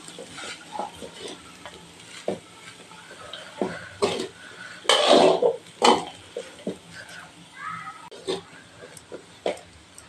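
Coconut mustard rice being stirred in a pan over a low flame, a spoon scraping and turning the rice in short irregular strokes, with a faint sizzle beneath and a louder burst of scraping in the middle.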